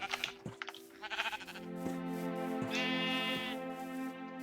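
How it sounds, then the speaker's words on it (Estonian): Sheep bleat in the video game Minecraft, a few wavering bleats in quick succession, close and clear with no talking. "Siin on palju lambaid"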